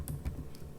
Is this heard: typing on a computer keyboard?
yes